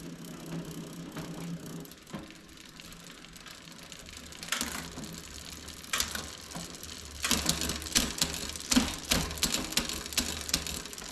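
A bicycle adjuster turned by hand, giving small mechanical clicks that come sparse and faint at first, then in quicker, louder bursts later, close to the ear with no talking.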